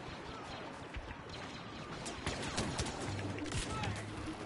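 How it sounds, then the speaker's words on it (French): Blaster rifle fire crackles in a Star Wars video game battle, dense bursts of zapping shots over a constant wash of loud combat noise, with a faint tone sweeping in near the end. "Série au fusil blaster"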